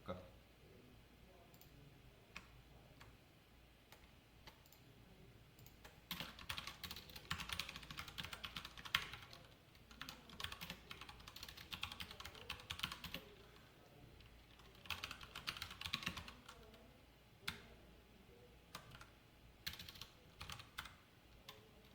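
Code being typed on a computer keyboard, steady bursts of clicky keystrokes running the whole way, with soft speech and room noise in the background.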